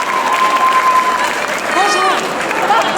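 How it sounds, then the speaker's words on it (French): A street audience claps loudly for outdoor theatre performers, dense continuous applause with a little crowd noise, close and busy, with a voice speaking over it. "on les applaudit très fort"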